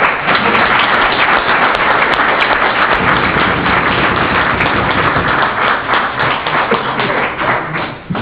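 Sustained applause from a CGT union conference audience in a hall, loud dense clapping that holds steady for several seconds before easing slightly.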